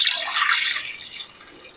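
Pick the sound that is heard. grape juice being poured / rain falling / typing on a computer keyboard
grape juice being poured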